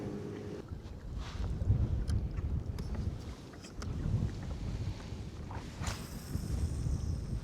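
Gusty wind buffets a small fishing boat on an inlet, with rumbling microphone roar rising and falling in waves over faint water and hull noise, no voices.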